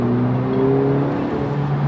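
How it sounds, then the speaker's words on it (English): A turbocharged 2020 Honda Civic Si engine revs steadily under acceleration in third gear with a slipping clutch, a loud continuous droning hum with a rising tone heard from inside the car. "as it starts to come on to boost and starts to make that real amount of torque that this engine makes, that's when you see the slippage"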